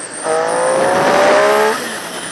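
A Triumph motorcycle engine revs in second gear to a high, steady 6,000 RPM held for over a second, then drops back, heard up close with road noise underneath.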